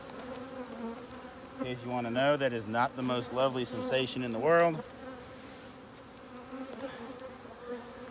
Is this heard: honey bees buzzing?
yes